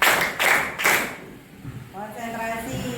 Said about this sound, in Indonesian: Ya, tepuk 3.